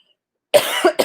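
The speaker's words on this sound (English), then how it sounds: "mimicking her voice made me cough." A single close, sharp cough bursts out after a moment of silence, followed by a short second catch of the throat.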